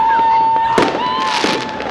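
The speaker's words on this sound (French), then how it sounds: "sur internet on avait vu qu'il y avait des feux d'artifice partout dans la ville" Fireworks go off in the city streets of Amsterdam on New Year's Eve: crackling bangs burst over a constant roar of background noise, with a steady whistling tone running through.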